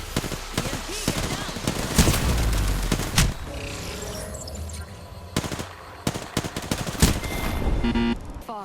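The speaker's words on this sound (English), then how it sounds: "They're shooting at me." Gunfire in the Apex Legends video game: rapid automatic bursts and single heavy shots crack close and loud, mixed with game effects and booms.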